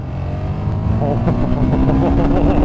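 A 2017 KTM Super Duke motorcycle pulls hard, its loud engine rising in pitch under heavy wind rush, with a voice faintly audible beneath the roar.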